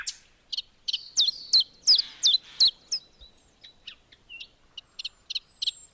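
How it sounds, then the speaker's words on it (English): A nightingale sings in a spring wetland: a run of clear, close, loud whistled and chirping phrases in quick bursts, then lighter, fainter notes toward the end, with no voices. "in the wetland where the nightingale sounds are echoed"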